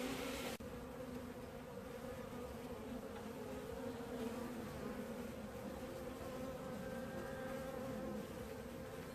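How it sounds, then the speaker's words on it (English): Honey bees buzzing inside an open hive on an overcast day: a continuous dense, quiet drone from many bees, steady throughout with no talking. "There's a lot of bees in there, aren't there?"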